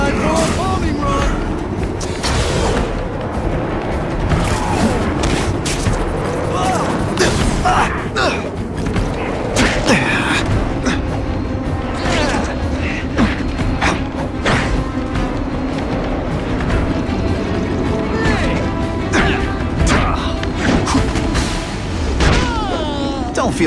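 Bombing-run explosions in The Amazing Spider-Man 2 video game, a dense, chaotic run of booms, slams and clattering impacts that keeps going under busy game sound and character voices.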